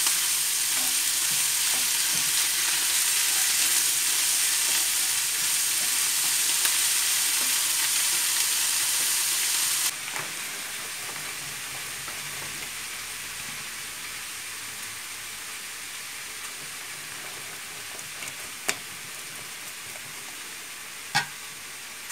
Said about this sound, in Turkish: mantarımızı ilave ettik. Karıştırıyoruz.